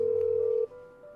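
A phone call being placed in the Nancy Drew: Mystery of the Seven Keys video game, heard as a steady ringback-style tone that breaks off after about half a second and gives way to a quieter line hum.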